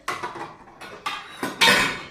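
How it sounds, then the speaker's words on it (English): Dishes, pots and pans clatter while being washed, several sharp metallic clanks and clinks in quick succession, close and loud, the last one the biggest, with no voices. "wash the dishes"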